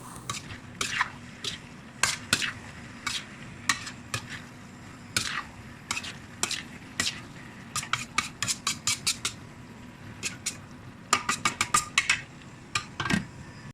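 Metal pots and utensils clatter and clink while pork giniling cooks, with scattered sharp taps and scrapes in irregular bursts over a soft background, fairly close and with no talk.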